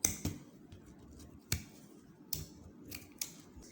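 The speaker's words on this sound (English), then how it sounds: "Trim the leftover from the edge." Scissors trim leftover Ankara fabric from the edge of a net fascinator, giving a handful of quiet, crisp snips spaced irregularly and close by, with no voices.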